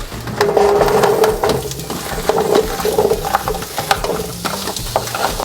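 Olive oil sizzles and crackles steadily in an oven, a bright hissing spatter with occasional louder pops, close by and uninterrupted by voices.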